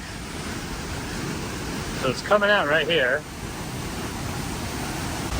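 Powerful waterfall at a European sightseeing spot, a steady broadband roar of falling water filling the whole clip, with someone talking briefly over it partway through.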